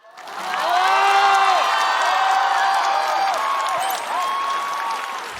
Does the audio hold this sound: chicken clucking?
no